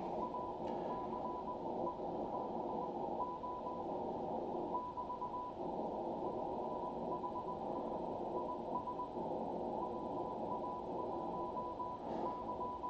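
Morse code tones at about 1000 Hz arrive through the SDRangel software radio, keyed faintly within a dense band of steady receiver hiss and static that runs throughout without a break.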